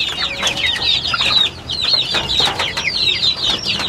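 Rhode Island hens clucking and chattering in a coop, a dense run of close, bright, repeated clucks and squawks that continues without pause, with no voices.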